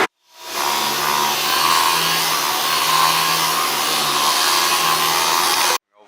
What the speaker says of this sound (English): We're going to be buffing it down.